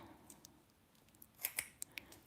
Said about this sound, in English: a pair of scissors, which is great for traveling